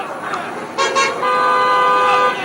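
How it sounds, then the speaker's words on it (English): Car horns honk repeatedly in celebration after a court verdict, several sustained blasts overlapping with street traffic noise and a few short toots. "Celebratory honking here galore, right and left."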